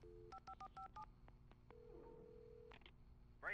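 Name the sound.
telephone dialing in the video game Alan Wake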